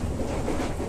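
A commuter train runs on rails as it approaches Citayam station, giving a steady, loud rumble with continuous wheel-on-track clatter and no voices.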